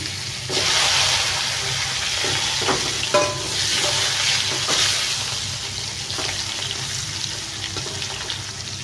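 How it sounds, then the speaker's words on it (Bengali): Garlic frying in oil over a wood stove in a village kitchen gives a steady, moderately loud sizzle with bright hiss, plus a few clinks and stirring scrapes, and no talking. "একটু তেল দিয়ে দিই। ভাতটা হয়ে গেছে, উনানে করেছে। রসুনটা ভাইজে নিই।"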